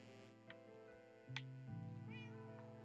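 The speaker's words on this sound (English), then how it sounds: "it's gonna be a little bit loud with some of my kitties" Pet cats meowing indoors, a few short distinct meows spaced across a few seconds, faint and close, over a low steady hum.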